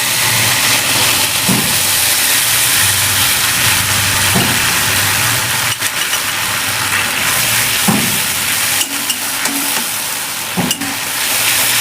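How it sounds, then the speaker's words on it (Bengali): Ground, pre-soaked mustard paste sautéed in a hot pan for a Bengali eggplant sour dish gives a loud, steady sizzle, broken by a few soft scrapes of stirring and no talking. "একটু ভালো করে কষা হবে সর্ষেটা"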